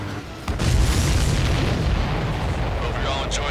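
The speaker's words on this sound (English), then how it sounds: "Strider 1, missile launched." A missile explosion in Ace Combat 7 rolls out as a loud, sustained rumbling blast with a broad roaring tail, heard close and dense throughout.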